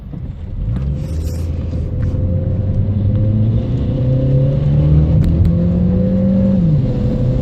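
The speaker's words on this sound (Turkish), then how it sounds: "Klimalı, açık, gazla kalkacağız." Honda Civic FD6 running on LPG with the air conditioning on pulls away, its steady engine rumble rising in pitch as it accelerates, loud and close from inside the car.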